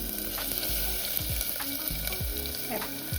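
Onions frying in hot oil, a steady close crackling sizzle with a few stirring scrapes and soft clinks.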